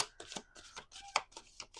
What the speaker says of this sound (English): And we're going to shuffle.